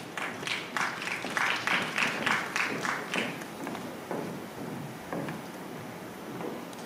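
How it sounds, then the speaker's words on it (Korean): At a musical press call, an audience claps to welcome two actresses, a brief burst of close, sharp hand claps that thins out into a few scattered claps and fades. "박수로 맞아주시기 바랍니다."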